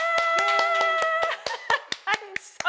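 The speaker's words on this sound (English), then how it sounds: "That was mainly just Thomas and Ivy just cheering me." Two people cheer loudly with excited voices and clap their hands close by. Sharp, quick claps continue as the shouting fades into laughter.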